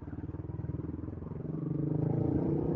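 A motorcycle rides along a road near Antipolo, its engine thumping in a steady pulsing rhythm close by, rising slightly in pitch and loudness as it speeds up, with no talking.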